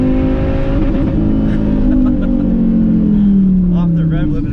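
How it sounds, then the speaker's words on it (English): A car engine pulls hard with a loud, rising exhaust roar that eases off as revs drop, heard close up from inside the car, with people talking over it. "Off the rev limiter"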